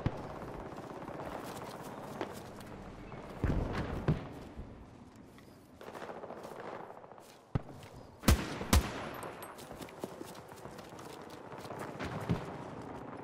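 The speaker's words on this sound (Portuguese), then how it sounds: "Aonde tá vindo esse tiro?" Gunshots in Battlefield 2042 ring out at moderate distance, scattered single cracks and short automatic bursts over a low battlefield rumble, with a few louder sharp reports near the middle.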